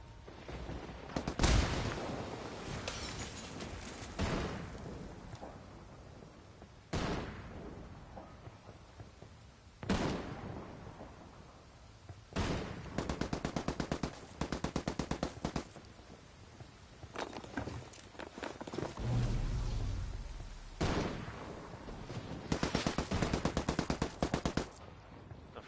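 Video game firefight with repeated bursts of automatic gunfire, loud and close, in irregular volleys spread across the stretch with brief quieter gaps between clusters of shots.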